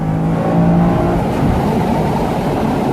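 A 2020 Chevy Camaro Convertible with a V6 engine (1LT trim) accelerates hard on a road, its engine and exhaust giving a loud, steady, rising growl up close throughout.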